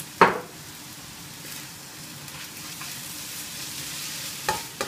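Fried rice with prawns sizzles in a hot pan while being stirred, a steady close frying hiss with a sharp scrape at the start and another near the end.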